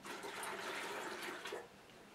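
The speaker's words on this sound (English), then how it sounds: "she's going to empty the water into the bedside commode." Water from a basin is poured into a bedside commode, a brief close splashing gush that fades quickly.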